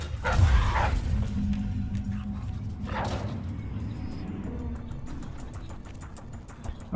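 Guard dogs barking in the stealth game Dishonored: Death of the Outsider, a couple of sharp barks near the start and again around three seconds over a low, steady ambient game background.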